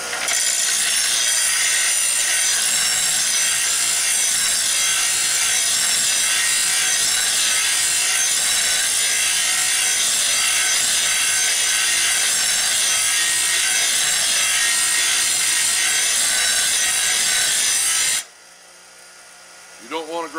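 A bench grinder sharpens a steel blade edge in a workshop, giving a loud, steady abrasive whine that runs unbroken for about eighteen seconds before cutting off abruptly into near silence.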